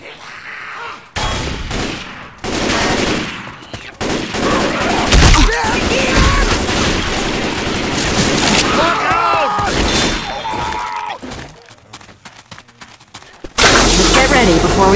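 Rifle fire in the Left 4 Dead 2 video game, dense loud volleys of shots over game sounds and a speaking voice, with a sudden louder burst near the end.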